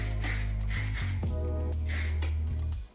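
Short bursts of hairspray hiss onto freshly blow-dried hair, several quick airy sprays over a steady low hum from a styling tool running nearby.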